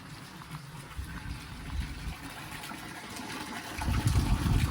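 Water runs steadily into a group drinking trough for cattle in winter frost, a continuous close gush and trickle that swells slightly louder toward the end.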